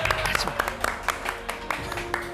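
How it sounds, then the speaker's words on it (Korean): A studio audience at a Korean television talk show breaks into applause, a scattered burst of claps ringing out for a couple of seconds, close and fairly lively with a bit of crowd noise mixed in. "박수!"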